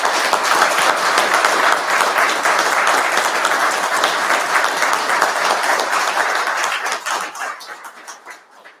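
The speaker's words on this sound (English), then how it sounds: "Let's give one last round of applause to all our recipients this morning." Sustained, loud applause from a ceremony audience honouring investiture recipients at Government House, steady throughout before tapering off near the end.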